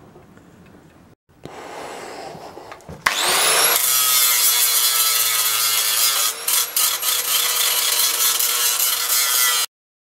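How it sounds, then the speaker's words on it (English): A power grinder whines loudly and steadily against metal while grinding down a repair on a vintage post drill, for several seconds after a brief lower rumble, then cuts off abruptly. "Now we've just got to sculpt it down with the grinder."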